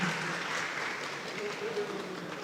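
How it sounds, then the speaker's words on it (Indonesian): Audience applause at the opening of a green tourism international seminar and entrepreneurship expo in Bali, a steady broadband clapping wash sustained through the clip at moderate loudness, with faint voices underneath. "Sekali lagi beri tepuk tangan yang sangat meriah untuk Bapak Abdi"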